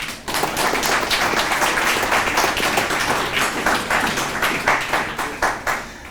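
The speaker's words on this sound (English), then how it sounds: "A round of applause for all those folks" An audience at a MayDay 2024 gathering in Duluth bursts into sustained applause, a thick roll of many hands clapping that swells early and then thins toward the end.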